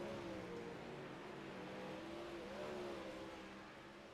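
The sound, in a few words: race cars on a dirt racetrack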